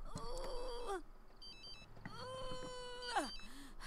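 Electronic telephone ringing in The Sims 3, repeated warbling chirps in a few bursts, moderately loud over quiet game ambience with musical tones.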